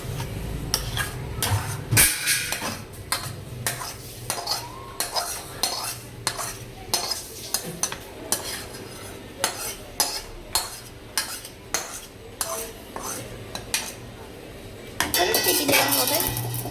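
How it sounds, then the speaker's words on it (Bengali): A spoon scrapes and clanks against a cooking pot as braised meat is stirred, with steady repeated metallic knocks and a soft sizzle, close and fairly loud, while a voice talks faintly in the background. "এখন পুরো কষানো মাংসটা দিয়ে দেওয়া হচ্ছে।"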